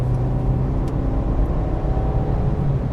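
Engine drone of a 2021 Jaguar XF P300 R-Dynamic with a four-cylinder engine, a steady low hum and whir heard from inside the cabin as it drives.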